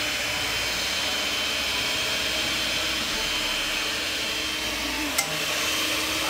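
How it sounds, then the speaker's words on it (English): An electric stand mixer runs at high speed, whipping homemade marshmallow; a steady, continuous broadband whir holds unbroken throughout at moderate level, with one brief click near the end and no talking. "Now gradually increase the mixer speed to high. You want to mix it for a full 10 to 12 minutes."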